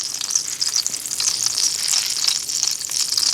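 Loud, bright sizzling of fat in a hot pan, a continuous crackling hiss close up with no talking.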